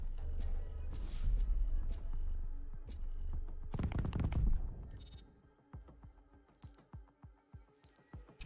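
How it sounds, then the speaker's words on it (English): Missiles and gunfire in the Battlestar Galactica: Scattered Hopes video game: a dense, loud barrage of blasts and rumbling in the first half, with one heavy burst near the middle, then a quieter run of sharp rhythmic shots. "That's a lot of missiles."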